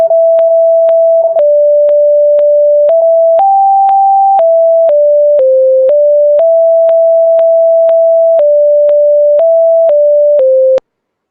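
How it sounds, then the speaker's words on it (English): Pure electronic tones generated in SCILAB play back to back for about eleven seconds, each a steady beep that steps up or down in pitch, separated by soft clicks, loud and alone. "Now we'll see the second tone, which will be separated from the concatenated tone."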